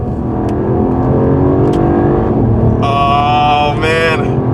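2024 Mercedes CLE 450 Coupe accelerating hard in sport mode with manual paddle shifting, a loud interior engine drone rising in pitch and holding strong with a sharp whine toward the end.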